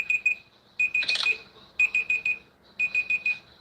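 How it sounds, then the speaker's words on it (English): A timer alarm beeps in repeated bursts of quick electronic tones, three groups spaced about a second apart, moderately loud and clear with no talk over it. "Somebody's alarm is ringing. No, it's my timer."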